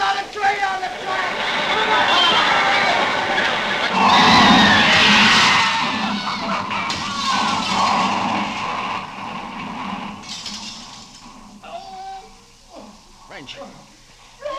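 A train crash effect from an old-time radio suspense drama builds as a long screeching, grinding rumble that peaks midway, then fades into scattered clatter and voices.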